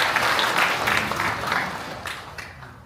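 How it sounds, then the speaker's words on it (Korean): A rural township gathering applauds to welcome the county head, with steady hand clapping that rises and then fades toward the end. "큰 박수로 환영해 주시면 감사하겠습니다."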